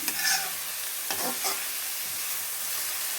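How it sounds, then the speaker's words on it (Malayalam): Onions sautéing in a pan for a soybean dish, with soft sizzling under a few scraping stirs near the start, then quieter frying, close and moderately loud. "ഇത് വഴറ്റി കൊടുക്കാമേ."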